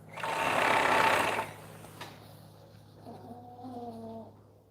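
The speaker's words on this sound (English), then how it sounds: "I sit and I sew." A home sewing machine stitches in a fast, loud burst for about a second and a half, then falls quiet; a brief click and a softer, tonal mechanical whir follow near the end.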